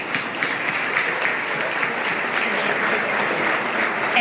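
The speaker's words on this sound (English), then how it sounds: "So a big round of applause to all of you here." Sustained audience applause at the Los Angeles gala of the Foundation for Armenian Science and Technology, a steady dense wash of many hands clapping at even loudness throughout, with no voices rising above it.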